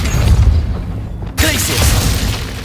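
In Hogwarts Legacy, a Depulso force push spell fires as a sudden sharp whooshing blast with a booming low thud, loud and close, then a ringing tail over rumbling game noise.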